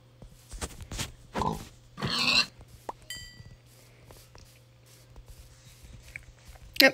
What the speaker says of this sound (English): Pigs everywhere. Pigs galore.